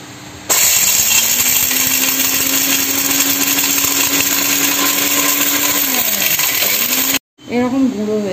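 An electric kitchen grinder powders spices with a loud, steady motor whir that runs for about seven seconds before cutting off abruptly, after which a voice briefly speaks.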